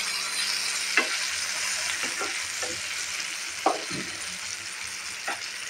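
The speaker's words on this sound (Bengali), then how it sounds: "প্রায় হয়ে আসছে বন্ধুরা আমার বেগুন ভাজাটা।" Sliced eggplant for begun bhaja fries in a pan with a steady, close sizzle, broken by several soft scrapes and taps as it is stirred.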